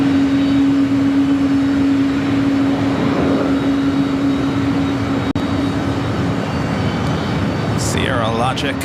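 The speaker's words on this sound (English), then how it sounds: "United 777. Flight heading to Honolulu in this 777-200." A United Boeing 777-200 jet bound for Honolulu at LAX gives off a steady, loud engine roar with a sustained whine, continuous throughout and close by, with a brief sharp click partway through.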